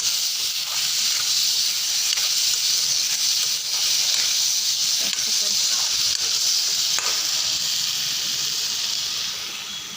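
Potatoes and elephant apple frying together in hot oil with onion and panch phoron, a steady close sizzling hiss holding throughout without a break.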